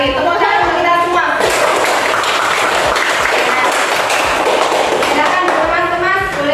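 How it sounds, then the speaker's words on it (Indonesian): A classroom of children bursts into applause, a loud dense patter of many small hands lasting several seconds, with a teacher's voice and children's voices before and after. "Tepuk tangan untuk kita semua."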